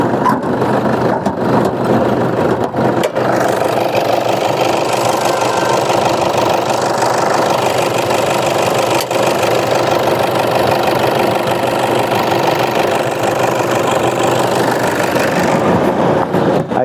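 A car engine idles close up, a loud, even rumble with a steady knocking chatter running throughout.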